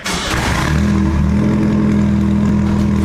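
A Chevrolet S10 mini drift truck with a full straight-pipe exhaust cranks and fires up, then settles into a loud, rough, droning idle close by, with no voices.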